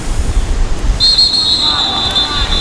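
Referee whistle at a middle school football game, a sustained shrill blast entering partway through over steady crowd murmur and outdoor noise, with a second fainter whistle tone joining near the end.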